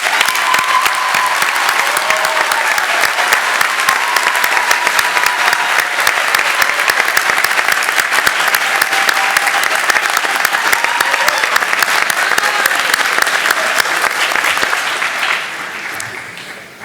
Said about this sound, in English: Let's give all the graduates another round of applause